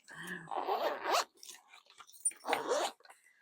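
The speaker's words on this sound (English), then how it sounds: "So that part zips there." The zipper on an old fabric CD case is pulled in two close, scratchy zipping strokes separated by a short pause.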